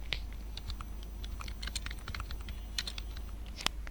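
Bangla text being typed on a computer keyboard: quick, irregular key clicks in small clusters, close and fairly quiet over a low steady hum, with no talking.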